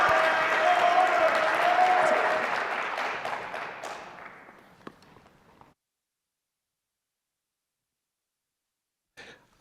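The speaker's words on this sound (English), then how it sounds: "Please give me a round of applause for Autolab." Audience applause at a startup pitch competition, a loud sustained burst of clapping that fades over about five seconds, followed by silence and a brief faint noise at the end.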